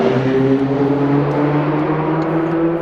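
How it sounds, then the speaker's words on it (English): An LMP2 prototype race car in Assetto Corsa drones loudly with a steady high exhaust note, held nearly constant throughout with no distinct backfire pops standing out. "Some great exhaust sounds there off the off throttle"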